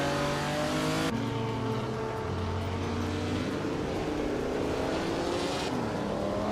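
Several race cars in a video game race, led by a 1956 Maserati 450S with Jaguar and Ferrari rivals close behind, drone steadily in a continuous layered engine roar whose pitch climbs and shifts as the cars accelerate.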